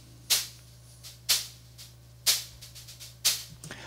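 Soloed Waves Factory Snare Buzz plugin on a copied snare track: four sharp, bright buzzy hits at a steady pace with softer ghost rattles between, dry and close over a faint low hum.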